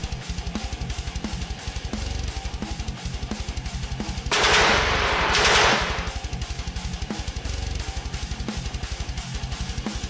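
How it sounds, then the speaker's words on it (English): Gun turret fire in a Gaslands tabletop car-combat game: a steady, rapid machine-gun rattle runs throughout, broken by two louder, harsher bursts in the middle, with no voices. "Gun turrets shoots at Patrol 1 dealing 3 hull damage and Tiamat dealing 1 hull damage."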